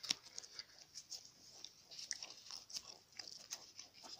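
Gum is chewed close to the mic, with wet, crisp mouth clicks and soft crunches in an irregular rhythm, quiet and with no talking.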